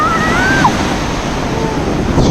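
Surf and a strong current wash steadily onto a clear-water beach at Tuy Hoa, a broad continuous roar of breaking waves with wind noise on the microphone and a brief distant whistle-like tone early on.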